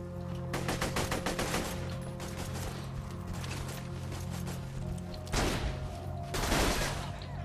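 Rapid bursts of automatic gunfire from a weapon in the video game Borderlands 2, dense rattling volleys over a steady game soundtrack, with a louder cluster of shots near the end.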